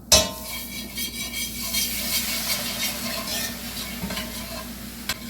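Milk gravy sizzles in a frying pan while being stirred, with a steady crackling fry and scattered scraping clinks of a utensil against the pan, close and moderately loud, with no talking.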